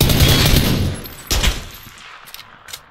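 A burst of rapid gunfire in PlayerUnknown's Battlegrounds opens, followed by a couple of sharper single shots and scattered fainter pops as the shooting dies down.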